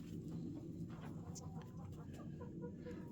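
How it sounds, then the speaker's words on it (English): A broody Rhode Island Red hen in a winter coop gives soft, low clucks and murmurs over a steady low rumble, close by, with no one talking. "It's one of my Rhode Island Reds."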